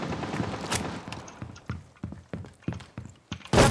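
A magazine swap during a reload in the video game Rainbow Six Siege, heard as a series of close, sharp mechanical clacks and thunks in an uneven rhythm, followed by a loud burst at the end.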